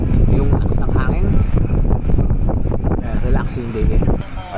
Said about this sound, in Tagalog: Narinig niyo ba yung ano? Yung lakas ng hangin?